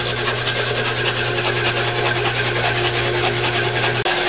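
A Sergio 235 engine runs on a sim tester with a loud, steady mechanical hum and a constant buzzing drone that stops abruptly near the end.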